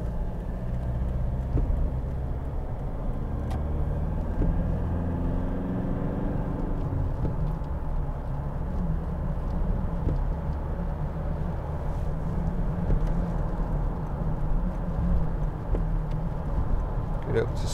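A 2015 Toyota Hilux 2.5 D-4D Icon double cab pickup with a 5-speed gearbox drives along a motorway, its steady engine drone and road rumble filling the cabin continuously, with someone talking over it.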